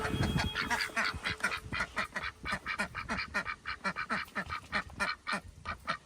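Ducks quack in a rapid, rhythmic string of loud, close calls, with a burst of mixed honking and noise at the start and no talking underneath.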